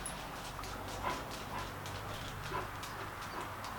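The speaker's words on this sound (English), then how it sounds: "Yeah, you bark at that fly." A corgi barks at a fly, with a few faint, soft barks at spaced intervals over a steady background noise.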